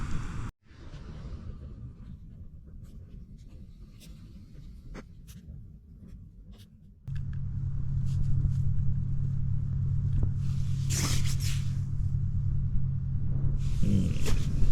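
A low, continuous rumble of road traffic hums in the distance at a mild-night campsite in western Victoria, Australia, swelling louder halfway through, with occasional faint rustles nearby.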